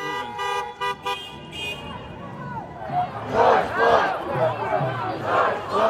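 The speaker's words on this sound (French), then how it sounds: "On entend des automobilistes klaxonner en signe de soutien aux manifestants." Car horns toot repeatedly at first in support of street protesters, then a loud crowd of protesters shouts and chants nearby, with horns fading under the voices.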